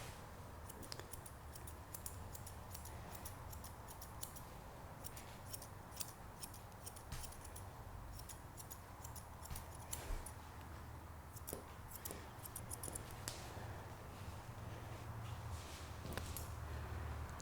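Curved grooming scissors trimming a Bichon Frisé's coat, rapid faint snipping clicks in quick bursts throughout, with a low hum beneath and no talk.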